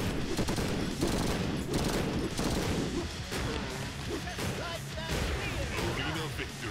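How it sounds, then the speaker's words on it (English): Flashbangs and gunfire in the video game Madness: Project Nexus: a dense, loud barrage of overlapping bangs and sharp bursts that runs without pause, with voices mixed into the din. "I'm gonna keep hitting you with flashbangs until you get stunned"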